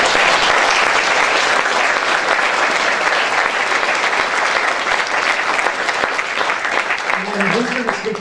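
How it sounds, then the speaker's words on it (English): An audience at a county board of supervisors meeting applauds in a loud, continuous round of clapping that fades slightly near the end as a voice begins to speak. "Please be generous in your applause."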